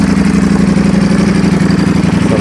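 A superbike's engine idles at a gathering of big bikes during Kannada Rajyotsava celebrations. It gives a close, loud, steady throb with an even pulsing rhythm and no voices over it.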